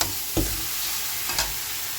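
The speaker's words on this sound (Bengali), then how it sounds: "এইদিকে অ্যাভোকাডোটা দিয়ে দিলাম, ভাজা ভাজা হবে" Avocado pieces frying in a pan beside cauliflower and potato, a steady sizzle with two brief scraping stirs of a spatula, close up and without speech.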